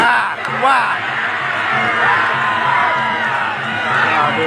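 A dense crowd at a Sasak pepadu stick fight cheering loudly and continuously, with whoops, yells and shouting layered into a steady roar that swells near the start and end.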